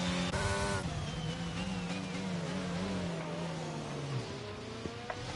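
Race cars in a racing video game on the China track, one overtaking another with DRS open: steady, loud whining engine tones sliding in pitch as cars pass, with no talk over them.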